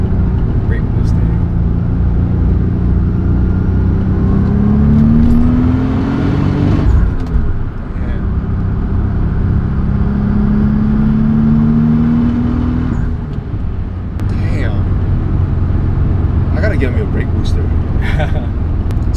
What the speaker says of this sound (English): Brake boosting is when you put a little bit of pressure on top of the brake and you're accelerating at the same time.